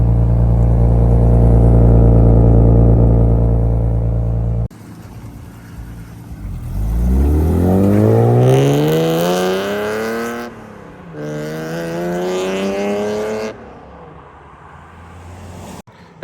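A loud, fully warmed-up car engine with a catless exhaust idles with a deep, raspy burble, then revs up sharply twice with rising roars before dropping back to a rumbling idle.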